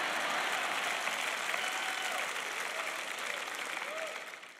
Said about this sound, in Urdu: تالیاں بجائیں، تالیاں اگر بجانا چاہتے ہیں